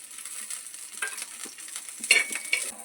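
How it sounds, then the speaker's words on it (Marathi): Green chilies and garlic fry in oil on a griddle, giving a thin, steady hiss with a few light spatula scrapes, fairly quiet and close, with no voices. "आता आपण त्याच्यात घालूया हिरवी मिरची"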